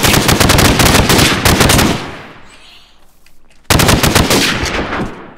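Rapid bursts of assault rifle fire in a Minecraft battle, loud dense volleys at close range, a brief pause of quieter rumble, then another sustained burst.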